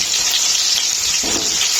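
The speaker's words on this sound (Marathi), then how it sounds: "तळणं महत्वाचं आहे कसं तळायचं दाखवतो" Steady hissing sizzle of fish frying in hot oil in a pan, close and loud, with a brief stir or shift partway through.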